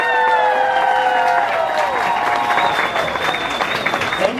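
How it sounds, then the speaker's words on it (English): Audience applause fills a drag show finale, loud and sustained clapping with some cheering from the crowd, while a host's voice and music-like tones run over it throughout. "Yes, round of applause!"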